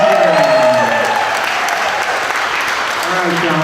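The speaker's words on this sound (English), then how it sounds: "big round of applause for Mr." Loud, sustained audience applause at a Corvette giveaway grand prize award ceremony, a dense crowd clapping continuously while a voice talks over the start.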